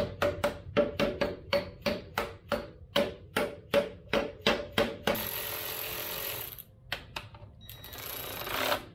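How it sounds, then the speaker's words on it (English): Metal scraping against a bolt thread during a suspension lift job on a first-generation Toyota Tacoma with an Old Man Emu kit: a fast run of evenly spaced rasping strokes, then a steadier grinding scrape with a few short scratches, close and loud. "I'm just scraping the thread."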